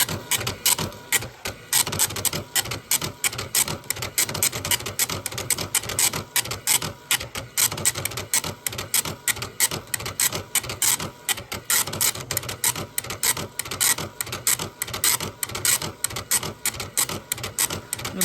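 A dot matrix printer connected to a Mac prints with its cover off, a loud, rapid, buzzing rattle of the print head in steady repeating bursts as it sweeps back and forth, close and continuous.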